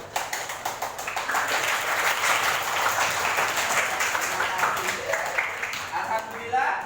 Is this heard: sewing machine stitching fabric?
no